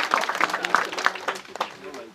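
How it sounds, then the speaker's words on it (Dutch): An outdoor crowd at a groundbreaking ceremony for a housing development in Spijkenisse claps loudly in an uneven patter of sharp hand claps, with someone speaking over the applause. "En geef ze een heel hard applaus alvast"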